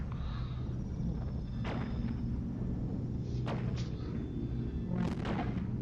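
Missiles launch and burst in Endless Space 2, a space strategy video game: three or four sharp blasts at irregular moments over a constant low droning rumble, fairly loud and close.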